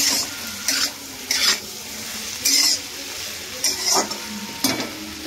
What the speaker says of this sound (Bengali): এবার সব সবজিগুলোর সঙ্গে চিকেনটাকে ভালো করে মিশিয়ে নেব